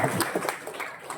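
A crowd gives a short, dense burst of clapping to welcome Vishal at a political gathering in Sawantwadi. It sounds moderately loud and continuous for just over a second.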